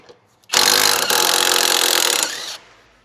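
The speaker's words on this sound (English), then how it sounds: "So I'm going to go for my 1/2-inch impact gun, straight 1/2-inch impact socket." A 1/2-inch impact gun with a straight 1/2-inch socket whirs loudly for about two seconds on an 18mm sway bar link nut on a 2007-2016 Honda CR-V, starting abruptly and cutting off sharply.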